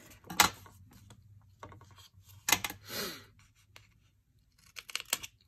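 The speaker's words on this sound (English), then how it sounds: "So I'm just gonna come back in and trim that a little bit." A cardstock overhang on a handmade triangular gift box is being trimmed, giving a few quiet, short scratchy cutting strokes separated by pauses, close and soft, with no talking.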